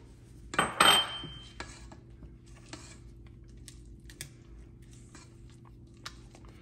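A spatula clanks against a mixing bowl while nuts are folded into sweet potato muffin batter, a couple of sharp scrapes and knocks up front followed by sparse, faint taps and clicks.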